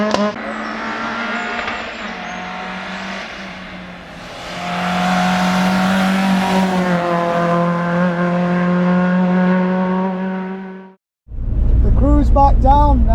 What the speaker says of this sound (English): That's beautiful Porsche.